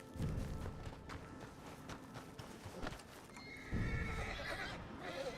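A horse in a video game neighs and whinnies over clip-clopping hooves and thuds, loud and close, with a second strong whinny rising midway through dense game noise.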